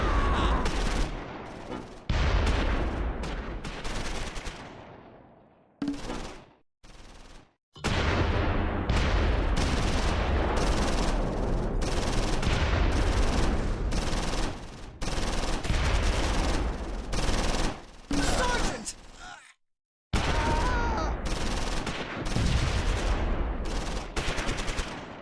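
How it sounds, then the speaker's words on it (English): Rifle and machine-gun fire mixed with tank fire rattle through a World War II Battle of the Bulge fight on the Siegfried Line in the strategy game Close Combat 4, in loud, rapid bursts broken by brief silences. "Second platoon comes under tank fire and takes casualties."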